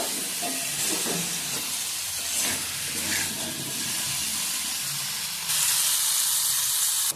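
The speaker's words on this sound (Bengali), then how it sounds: "আর নুন দিয়ে আলু ভাজা ভাজা করে নেব।" Potatoes frying with salt and turmeric in a pan give a continuous loud sizzling hiss that swells louder near the end, with occasional small clinks and no speech.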